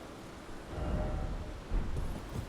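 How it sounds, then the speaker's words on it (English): Rumbling thunder and stormy weather in the open-world video game Elden Ring, a low steady roll that swells twice and carries on without any voice over it. "It is quite stormy out."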